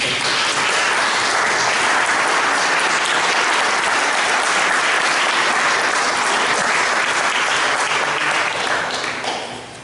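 An audience at a twin-town meeting in Auxerre claps steadily for visiting representatives from partner towns, a dense, even wash of many hands sustained for the whole stretch before thinning slightly at the end.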